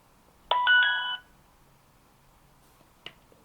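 An Anran C3 battery-powered solar Wi-Fi security camera plays a short, bright multi-tone chime as it powers up, followed a couple of seconds later by a single faint click in an otherwise quiet room.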